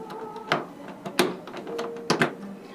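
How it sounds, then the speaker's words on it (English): A trombone case lid closes and its latches snap shut in a few sharp clicks, close by and fairly quiet, with faint handling noise between them. "close the lid down on the body. Latch both latches."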